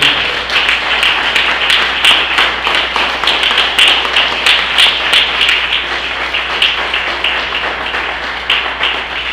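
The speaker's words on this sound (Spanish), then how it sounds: "Denle un fuerte aplauso al Señor" Worshippers at a Sunday church service give loud sustained applause, a close, dense clatter of many hands with rhythmic surges throughout, over a low steady hum.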